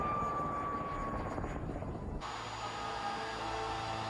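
Helicopter rotors during a landing, a continuous whooshing hum with a whining tone that ends abruptly, then a lower, steady drone.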